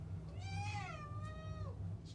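A cat being shaved gives one drawn-out meow, clear and close over a low electric clipper hum, rising and then falling as it trails off.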